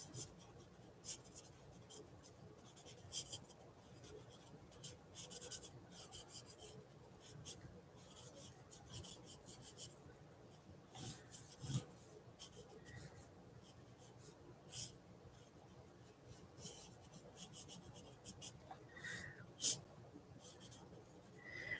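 Markers scratch and squeak across marker paper in close, steady strokes, a soft continuous scribbling with brief pauses while someone draws.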